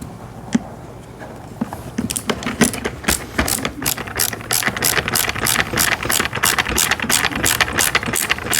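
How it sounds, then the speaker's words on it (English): A screw is driven into a kids' 6V battery-powered ride-on motorcycle, giving a rapid, steady series of close ratcheting clicks from the driver that keeps going to the end. "let's get this screw in here."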